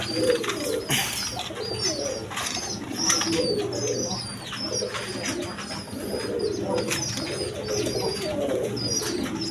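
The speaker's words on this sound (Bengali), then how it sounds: "এখানে এক পেয়ার রাজগোল্লা কবুতর আছে দেখেন" A pair of Rajgolla pigeons cooing close by in repeated soft, throaty phrases, with faint chirps and the occasional flutter of wings.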